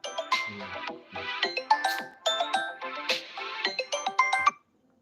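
A phone ringtone plays a bright, repeating electronic chime melody in quick bursts for about four seconds, then cuts off.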